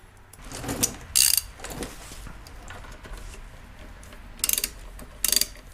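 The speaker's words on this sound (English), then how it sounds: "And we'll just wrench this back into place." Ratchet wrench clicking on a rear shock bolt of a 2014 Chevy Spark, in a few short bursts of quick metallic ticks with quiet gaps between them, close and fairly faint.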